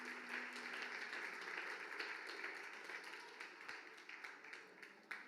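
Sustained applause from a crowd, a dense wash of many hands clapping at moderate distance, steady and slowly thinning toward the end.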